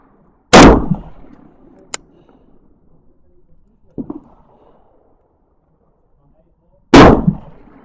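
Two loud, sharp rifle shots from an SA80 / L85A1 semi-automatic rifle at a range, each with a short echoing tail, separated by a fainter, duller report and a brief click.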